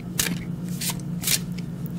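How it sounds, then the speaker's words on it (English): Large Everyday Witch Oracle cards being shuffled by hand, with three or four brisk riffling bursts spaced across the moment over a steady low background hum. "They are big cards and not as easy to shuffle"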